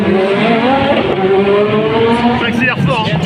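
A Renault 5 race car accelerates hard through the gears on the Circuit des Remparts street course in 2021, its engine loud and close with rising revs, while an excited commentator talks over it.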